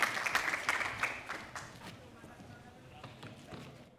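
An audience applauds a guest speaker at a Colombian insurance industry convention, the clapping loud at first and then thinning and fading into scattered claps, with no talking over it.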